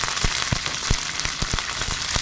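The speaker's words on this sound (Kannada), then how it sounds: "ಇದಕ್ಕೆ ಬೆಳ್ಳುಳ್ಳಿನ ಸಣ್ಣ ಸಣ್ಣದು ಹೆಚ್ಚು ಹೆಚ್ಚಿಬಿಟ್ಟು ಹಾಕೊಂಡ್ರೆ ತುಂಬ ಚೆನ್ನಾಗಿರುತ್ತೆ ಸ್ವಲ್ಪ ಕರ್ಬೇವು ಹಾಕೋತಾ ಇದ್ದೀನಿ" Curry leaves and finely chopped garlic sizzle in hot oil for a greens sambar, a steady close frying crackle broken by sharp pops and spatters, with no voices.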